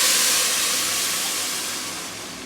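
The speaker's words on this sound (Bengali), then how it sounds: "পেঁয়াজ লাল হয়েছে, এখন আমি ডালটা দিয়ে দিলাম।" Dal lentils hit hot oil with fried chopped onion and garlic, setting off a loud, close, hissing sizzle that slowly fades over a few seconds, with no talking.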